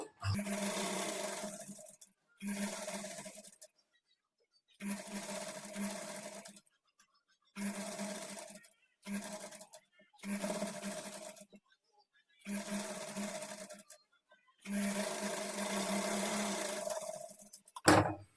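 A sewing machine runs in repeated bursts as it double-stitches along the sleeves of a kurti, each whirring run lasting a second or two and separated by short silent pauses.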